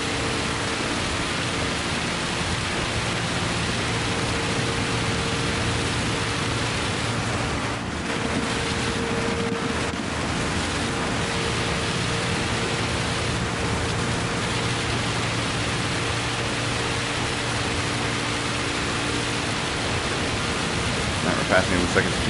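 Heavy rain hisses steadily during a Gran Turismo 7 race, a dense, constant broadband wash mixed with a low engine hum throughout.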